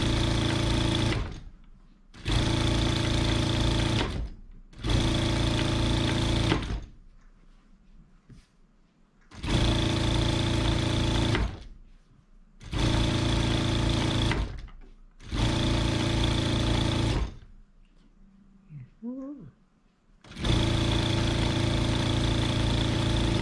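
An electric sewing machine stitches the folded 2 cm edges of a fabric apron, running in five loud sustained bursts separated by short pauses, with faint handling noise between runs.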